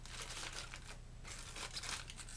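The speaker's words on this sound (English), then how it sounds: "Then take the foil and wrap it up like a burrito" Soft crinkling of aluminium foil folded and wrapped around a section of hair extensions during a lightening job, a quiet, steady rustle with brief louder crackles, heard alone.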